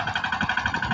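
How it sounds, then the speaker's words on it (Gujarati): A tractor engine runs steadily on a farm field, giving a continuous, rhythmic chugging idle with a regular pulse throughout the short stretch, close and moderately loud with no talking. "આપણી માંડવી છે ને અત્યારે ટ્રેક્ટર આવી ગયું છે"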